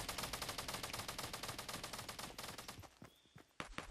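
Automatic gunfire in Fortnite as a player shoots down stairs, a rapid rhythmic stream of shots lasting about three seconds, then a few sparser single shots, fairly close and alone without talk.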